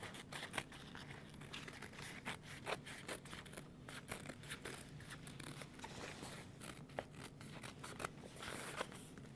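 Scissors trim loose thread on a freshly sewn tote bag, making quick close snips and clicks scattered over steady handling rustle, with no talking.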